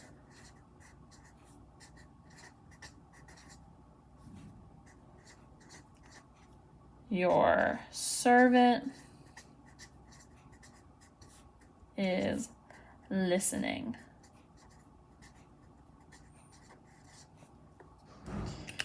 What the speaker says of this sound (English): And I'm going to draw his eyes awake. And I'm going to write